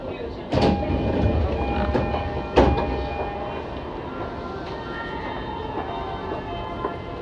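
A Narita Line E231 series commuter train rumbles and clatters nearby at Abiko station with metallic clanks and steady rolling noise, muffled voices mixed into the station din.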